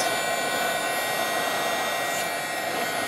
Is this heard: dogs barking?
no